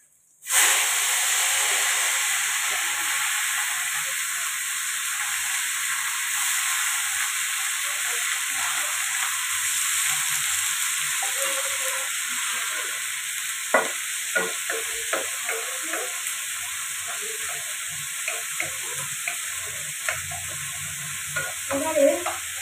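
Chopped cabbage fries in hot oil with cumin, asafoetida and a little mustard, giving a loud, steady sizzling hiss up close, with scattered stirring scrapes and clacks growing more frequent toward the end.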